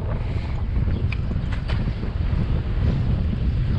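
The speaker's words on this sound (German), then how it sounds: "Aber schön windig heute hier." Steady wind on a Malaga street buffeting the microphone with a low rumbling roar, constant and close, with faint higher rustles and no voices.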